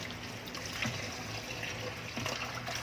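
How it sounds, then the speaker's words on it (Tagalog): Beef tripe and other cow innards being washed in water to prepare papaitan: a steady watery trickle and sloshing with a couple of slightly louder splashes, close by, with no talking. "Hugasan muna natin itong laman loob ng baka para mawala yung amoy."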